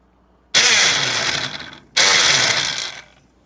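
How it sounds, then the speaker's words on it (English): A malfunctioning immersion blender whirring in two loud, close bursts of about a second and a half each, separated by a short pause. The motor noise is harsh and grinding, with no talk. "my immersion blender is not working right"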